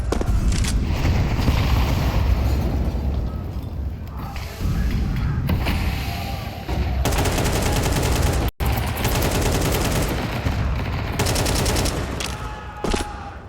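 Rifle fire from AK-47s and a Galil rattles through a Counter-Strike esports match in dense, rapid bursts. The gunfire runs nearly nonstop for over thirteen seconds, with brief dips and one sharp cutout.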